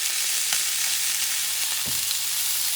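Bison sirloin steaks searing in a pan give a steady, loud, close sizzle with a couple of faint clicks and knocks.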